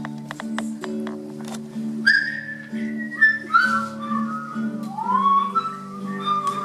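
A church music-night audience whistles a melody together in clear, sustained tones, the tune rising and falling with a low musical drone underneath.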